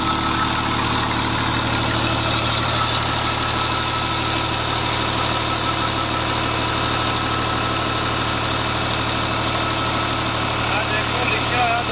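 A Romanian-made Farmer 533M tractor engine idles steadily, a low constant rumble with mechanical vibration running throughout, while someone talks over it.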